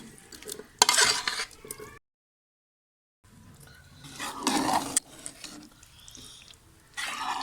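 A spoon stirs cooked chicken into creamy white sauce pasta in a pan, giving soft wet scraping and gentle sizzling in uneven bursts with a short silent gap, close and moderately loud.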